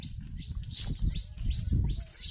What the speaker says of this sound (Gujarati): અહીં ચકલા ચોખા ખાય